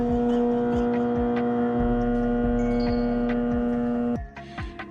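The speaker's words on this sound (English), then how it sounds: "If your disposal is making that humming noise" A jammed garbage disposal gives a steady, loud electrical hum with a rhythmic throbbing pulse for about four seconds, then cuts off, leaving faint room noise.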